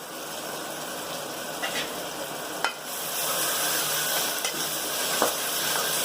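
Ginger garlic paste fries with sautéed onions for a vegetable biryani in a pressure cooker, a loud, steady broadband sizzle with a few faint stirring clicks and no voices.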